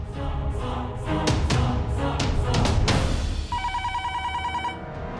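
A telephone rings in a Hindi drama scene, a repeated electronic ringing tone in short bursts heard after some thumps and music-like hits, loud and close.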